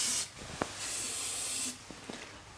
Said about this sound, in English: So we're going to spray it with activator.